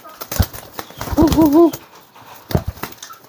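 A pigeon lifted out of its cage gives a short burst of close wing flapping and a few soft coos, with light handling taps before and after.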